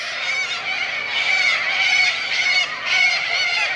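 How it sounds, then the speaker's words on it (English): Flock of cockatoos screeching loudly and continuously at an overnight camp by Ellendale Pool in Western Australia, a dense, harsh chorus of overlapping calls close by with no pause. "Plenty of cockatoos here making a racket."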